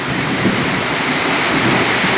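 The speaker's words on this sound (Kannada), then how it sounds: "ತುಂಬ ಜೋರ ಮಳೆ ಬರ್ತಾಯಿದೆ" Dense, loud rain roars continuously with a deep rumbling undertone of thunder, a steady wash of noise with no voices.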